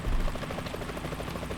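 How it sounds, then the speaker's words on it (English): A helicopter in Metal Gear Solid 2: Sons of Liberty thumps steadily at a distance, a low rhythmic rotor chopping drone that holds even throughout. "Is that a chopper I just heard?"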